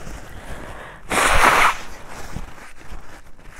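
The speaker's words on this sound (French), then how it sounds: "Je vais essayer de me moucher." A single brief, forceful nose blow, a burst of breathy noise lasting about half a second, followed by quieter shuffling sounds.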